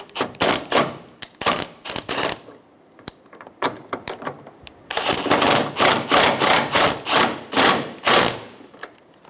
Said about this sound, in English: Install the 10mm bolts in the top of the bumper.